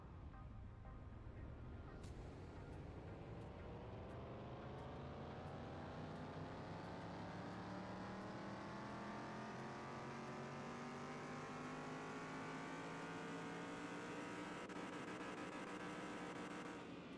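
A Dodge Charger R/T engine runs steadily on a dyno, its tone climbing smoothly as revs rise over a long pull; loud, continuous and close, with no talk.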